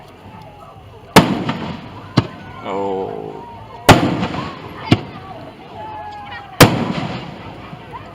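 Fireworks burst at the Black Gold Jubilee show: several sharp, heavy booms spaced a second or two apart, echoing and crackling afterward, with people talking and exclaiming between blasts.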